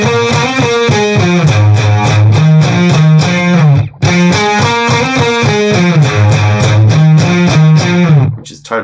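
The song riff is played as single notes an octave up with no fifth underneath. It sounds as a loud, distorted electric guitar line in two matching phrases with a brief pause between them, with no talking.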